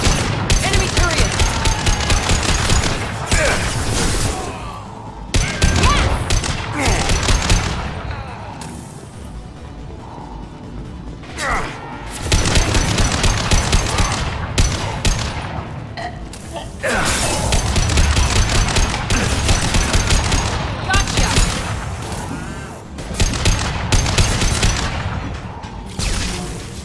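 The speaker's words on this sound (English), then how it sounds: "Enemy turret!" An enemy turret in Mass Effect 2 fires in long, loud sustained bursts of rapid gunfire separated by brief lulls, layered with mechanical clatter and game combat noise.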